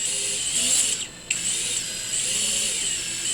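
Drone brushless motors spin up on a bench test, giving a loud, steady high-pitched whine with a rough mechanical buzz underneath; it drops out briefly near the middle, then resumes at a constant pitch.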